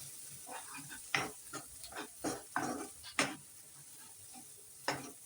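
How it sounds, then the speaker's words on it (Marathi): Garam masala and coriander-cumin powder being sautéed in a pan for a chickpea curry, with soft sizzling and a series of sharp spoon scrapes and knocks against the pan at uneven intervals. "गरम मसाला, धना जिरा पावडर, हे पण छान परतवून घेऊया."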